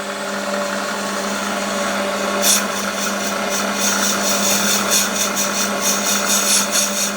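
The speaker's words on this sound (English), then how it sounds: "it's not a problem for this lathe. It can do that. It's only on brass." A metal lathe cuts brass with a steady, loud mechanical whine and hum; partway through, a brighter hiss from the cutting joins and carries on over the machine drone to the end.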